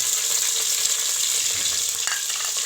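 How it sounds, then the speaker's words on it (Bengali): Shrimp fry lightly in hot oil in a pan, producing a loud, continuous crackling sizzle up close that stays constant from start to end, with no voices. "এখন আমি এই চিংড়িটা হালকা আগে আগে ভেজে নেবো"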